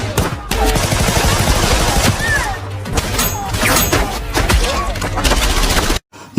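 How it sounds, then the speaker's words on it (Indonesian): Rapid bursts of automatic gunfire and scattered single shots crackle loud and close in a film gang shootout, mixed with crashes and impacts, then cut off abruptly near the end. "terdengar suara tembakan di dalam"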